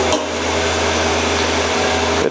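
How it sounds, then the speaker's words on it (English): A steady hissing air blast sprays across the tools of a scratch-built mini CNC vertical mill, a continuous loud whoosh over the hum of a spindle running near 11,000 RPM. "Now you'll hear the air blast when it comes over here, blows the chips off the tools."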